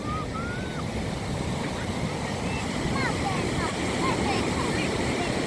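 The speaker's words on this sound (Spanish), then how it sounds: "Está muy fuerte la playa." Strong ocean surf pounds a beach in a steady, loud, continuous roar with wind buffeting the microphone, while people talk faintly in the background.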